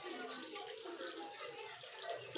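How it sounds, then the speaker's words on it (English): Water runs quietly from a tap into a sink while beef, including cow head meat, is washed, a faint steady trickle and splash with soft handling noises. "So I'm going to be washing it separate."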